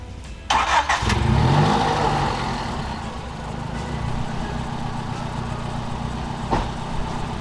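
A Honda Civic engine cranks and catches near the one-second mark with a brief rev, then settles into a steady low idle that continues close by to the end.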